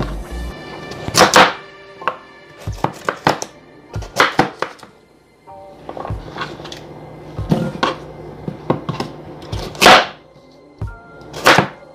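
A knife chops ginger sharply on a cutting board in uneven bursts of loud, close thuds, with short pauses between runs of cuts.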